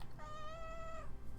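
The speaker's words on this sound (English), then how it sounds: "Did you hear that little meow?" A cat's single little meow, a short, clear, high-pitched call lasting under a second, close by over a quiet room background.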